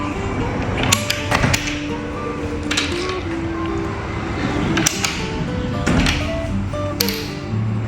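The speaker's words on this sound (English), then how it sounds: "let's close this door" An interior door in a renovated flat swinging shut, with several sharp knocks and clicks of the latch and panel.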